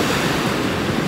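Ocean waves wash steadily onto a winter beach, a continuous loud roar of surf with some wind noise on the microphone and no talking.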